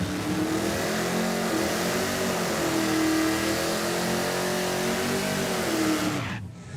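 A Pontiac Firebird drag car with fresh spark plugs and a raised rev limiter roars loudly and continuously as it accelerates hard, engine pitch rising and holding, then cutting off abruptly near the end.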